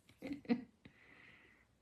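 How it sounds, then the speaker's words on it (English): A sleeping pet snores faintly nearby, giving a couple of soft snorting breaths followed by a quiet, drawn-out wheezy exhale. "I've got Benji snoring away down here."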